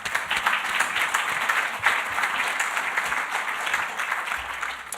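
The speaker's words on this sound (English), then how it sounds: "please give a round of applause as we welcome to the stage our host for the evening" A business awards audience breaks into sustained applause as the evening's host is welcomed to the stage, a dense wash of clapping that holds steady with no voices.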